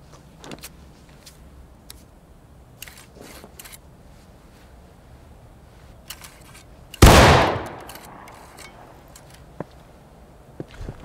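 One loud, sharp gunshot in War of Rights skirmish shooting training rings out after a long quiet stretch, with a brief trailing echo and faint clicks around it.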